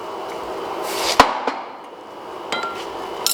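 Sharp metallic strikes ring out as a hammer hits a forged hammer eye to straighten it: one loud clang, then several lighter taps spaced apart, with ringing decay.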